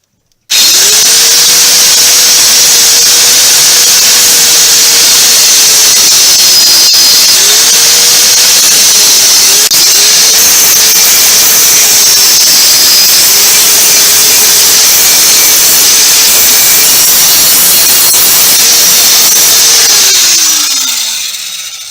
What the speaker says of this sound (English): I'm gonna finish off cutting out these dropouts from that drill hole